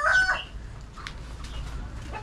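A trapped wild jungle fowl rooster crows once near the start, a loud close harsh call, followed by fainter clucks and rustling against a low background hum.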